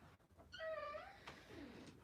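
A single drawn-out cat meow sounds close by and fairly quiet in a calm indoor setting, with a few soft clicks before it and nobody talking.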